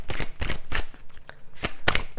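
Tarot cards being shuffled up close, a series of quick papery riffles and soft slaps in an uneven rhythm, with no speech.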